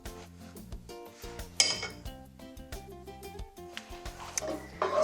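A spoon clinks and scrapes against a pot while stirring honey and onion powder into chunky tomato sauce, bright irregular metallic taps in quick bursts, close and alone.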